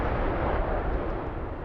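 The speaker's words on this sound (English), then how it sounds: "an explosion that could be seen and felt for miles" A huge explosion after a fiery train derailment, a continuous loud rumbling roar that stays dense and heavy throughout, with no voices over it.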